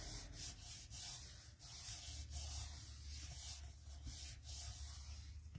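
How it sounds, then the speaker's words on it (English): A glued paper piece on a handmade Christmas card is rubbed down by hand, a continuous soft close scuffing with no pauses and no talk. "I like to lay it down on the opposite side and give it a good rub down"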